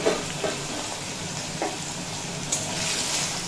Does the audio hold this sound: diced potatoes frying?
yes